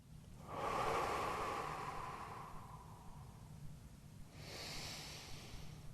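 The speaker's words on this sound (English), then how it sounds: "notice that I'm breathing really slow and controlled as I'm holding this" Slow, controlled breaths while a yoga stretch is held, one long, airy breath drawn close to the microphone, then a pause and a softer second breath beginning, all over faint background hiss.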